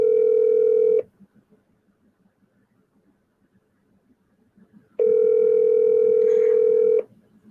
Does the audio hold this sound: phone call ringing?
yes